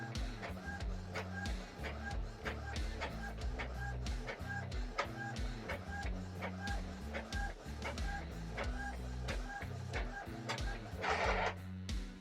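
An Epson L130 ink tank printer runs through a color page, its mechanism churning in a steady, repetitive rhythm of clicks and whirs with a rising burst of rushing sound near the end, loud and close with no talk.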